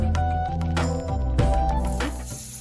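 Soft sizzling and crackling of spices sautéing in hot oil, with a few clinks and bumps from a pan and utensil.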